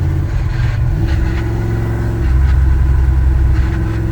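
Car engine chugging along under load in 5th gear on a long drive, a steady low rumble with slight surging, close and continuous with no talking.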